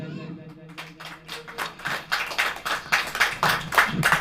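Church congregation clapping in a rhythmic beat, starting sparse then building into steady, loud, fairly fast claps with scattered voices.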